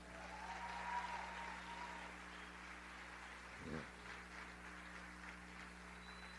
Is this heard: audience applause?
yes